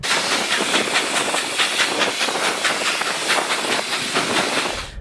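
Steam locomotive 3801 hauls a heavy 318-tonne train up a grade in simulated wet conditions, giving loud, rapid, rhythmic chuffing with continuous steam hiss, close and steady throughout.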